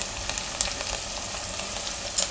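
Yam and eggplant curry sizzles in hot oil as an extra spice mix goes in, a continuous crackling fry with soft stirring scrapes and a couple of brief louder pops.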